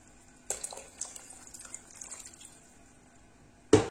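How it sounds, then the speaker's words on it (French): Orange blossom water is poured from a glass into freshly boiled sugar syrup. A short, close trickle and light splashing fade out, then a sharp clink follows at the end. "vous ajoutez un demi-verre de fleur d'oranger, toujours avec le même verre"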